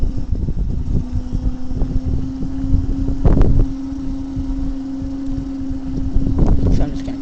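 An Ezip 500 electric scooter cruises along with a steady low motor hum under constant wind rush, swelling briefly around the middle and near the end.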